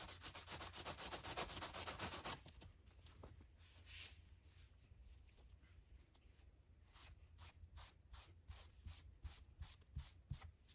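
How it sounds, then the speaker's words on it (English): Rag wiping excess Rubio Monocoat oil finish off ebonized ash wood, a steady broadband rubbing that is loudest in the first couple of seconds and then continues as softer, repeated wiping strokes along the grain. "now I'm going to remove the excess on a clean spot of the rag"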